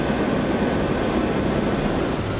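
An MV-22 Osprey tiltrotor aircraft flies close by, producing a loud, steady broadband roar of engine and rotor noise that holds unbroken throughout, with no voices heard.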